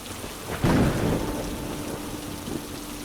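Rain falling in a steady wash with a deep rumble of thunder swelling near the start and slowly fading, heard alone with no voices.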